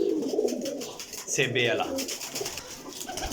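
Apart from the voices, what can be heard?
pigeons cooing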